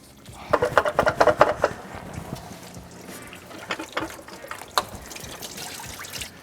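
Coolant dribbles and splashes into a catch pan as the water pump comes off a Toyota 2UZ-FE V8 engine in a 4Runner or Tundra. Irregular bursts of close trickling alternate with quieter gaps.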